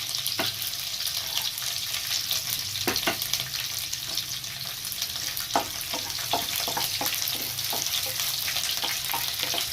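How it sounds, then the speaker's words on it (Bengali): Chopped cauliflower and carrots fry in a pan of hot oil with spices, giving a steady, loud hiss that carries on throughout, broken by frequent light clicks and scrapes of stirring. "এটা ফ্রাই হতে হতে আমি দিয়ে দিলাম ফুলকপি, অল্প কিছুটা কাটা ফুলকপি।"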